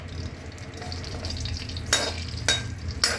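Whole cardamom, cloves and cumin seeds crackle in hot oil in a home kitchen while paneer butter masala is being made. A steady low sizzle runs throughout, broken by three sharp bursts of spattering near the end, with no talking.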